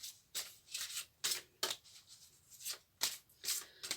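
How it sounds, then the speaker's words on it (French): Angel oracle cards from a love-themed deck being shuffled by hand, a series of soft papery riffles and slides in quick irregular bursts, close and fairly quiet with no talking. "je vais prendre 3 cartes des anges de l'amour, de Dorine Virtue."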